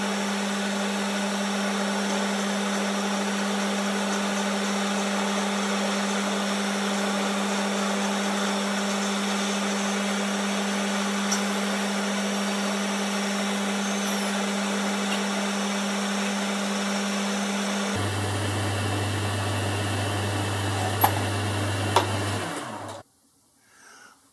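A lathe parts off a workpiece with a steady whirring motor drone that shifts pitch near the end and then stops abruptly, no voices.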